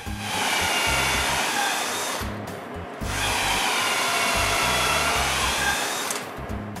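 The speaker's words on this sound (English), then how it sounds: "Then I drill deeper pilot holes using the Vicks bit hole as a guide." A power drill with a Vix bit bores pilot holes into a wooden interior door for hinges, whirring steadily in two close bursts with a brief pause between.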